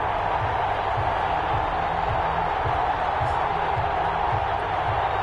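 A stadium crowd in a Madden NFL football game roars as a continuous, loud wash of cheering and murmur, with rhythmic low thumps pulsing beneath it throughout.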